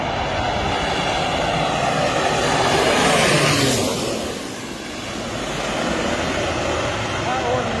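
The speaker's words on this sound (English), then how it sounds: "This plane picking up water from a river." A plane skims a river to scoop up water, its engine roar and rushing spray swelling to a loud broadband peak around the middle before easing back to a steady, slightly quieter rumble.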